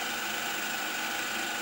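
A small servomotor runs on a roughly 24-volt supply during a protection-circuit test, giving a steady, faint, even whir with no variation and no voices.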